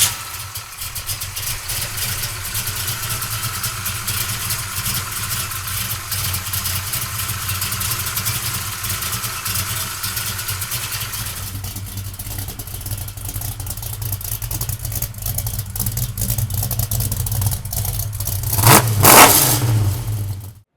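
A 1969 Chevrolet Chevelle with a 572 big-block runs loud and close, holding a deep rumbling idle before a sharp rev blips near the end and the engine cuts off.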